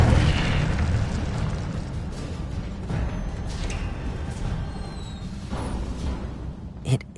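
The Incendio fire spell is cast in Hogwarts Legacy, a sustained, roaring fiery whoosh with low rumble that holds steady for several seconds before a short final burst.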